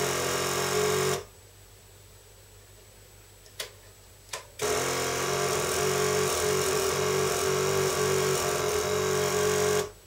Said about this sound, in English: turning on the pump.